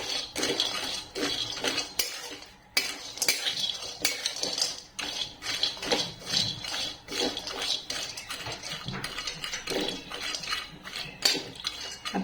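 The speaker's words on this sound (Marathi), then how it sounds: "मंद गॅसवर अगदी पाच मिनिटांसाठी मी ही परतून घेणार आहे" Dry dates are roasted over low heat in a kadhai, with a metal spoon stirring and scraping continuously, giving steady clinks and rattles with no talking.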